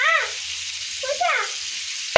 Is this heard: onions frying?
yes